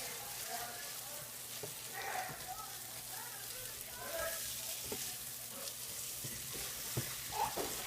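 Stir fry with sesame seeds being stirred in a hot pan, a soft steady sizzle with scattered light scraping and clicking of the utensil, fairly faint and continuous throughout.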